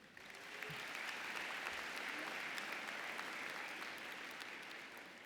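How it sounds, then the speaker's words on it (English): Sustained crowd applause at a university business school commencement ceremony, a broad wash of many hands clapping that swells quickly and holds steady throughout, heard from a distance in a large venue. "So give yourselves the biggest round of applause yet."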